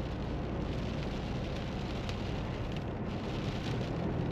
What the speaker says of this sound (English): It's not raining too hard,